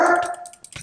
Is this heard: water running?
no